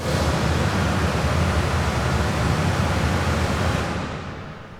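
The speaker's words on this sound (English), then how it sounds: "Here the measurement is made with pink noise that is stopped" Loud broadband hiss of pink noise fills an indoor swimming hall for several seconds, then cuts off and a short reverberant tail fades away.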